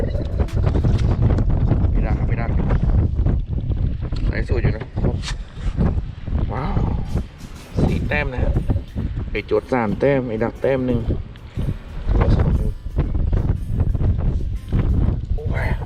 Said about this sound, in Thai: ลมแรงๆลมแรงจริงเลย